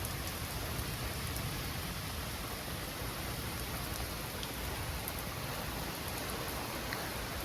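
Heavy, steady rain pours during a severe thunderstorm with gusty winds, a dense continuous hiss filling the scene, close and loud, with no voices.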